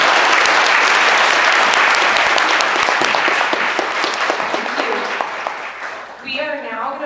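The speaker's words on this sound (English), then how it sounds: "Let's give our panel a round of applause." An audience at a law review symposium on migration claps for a panel, loud and sustained at first, then thinning out toward the end as a voice starts speaking.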